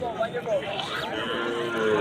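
A large cow lows close by, a drawn-out moo rising over the noisy chatter of a crowded cattle market before Eid.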